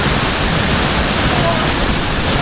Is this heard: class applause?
no